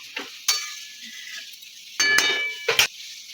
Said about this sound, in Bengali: দুধ দিয়ে একবার নেড়ে নেবো।